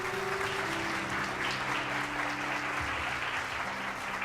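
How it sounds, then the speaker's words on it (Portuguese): A church congregation applauds in a continuous, moderately distant wash of clapping, with low sustained keyboard tones humming steadily beneath it. "Aplauda o Senhor por isso."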